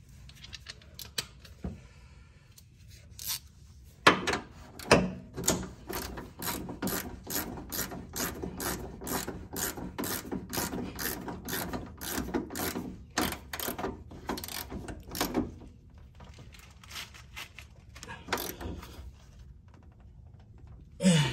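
Socket wrench ratcheting on the bolts of a rear dual brake caliper on a Nissan S14, with long bursts of rapid close clicking and short pauses between them.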